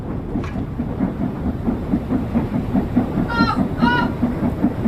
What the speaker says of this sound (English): Get a little bit of the steam loco on the go, look. We're starting to pick up speed.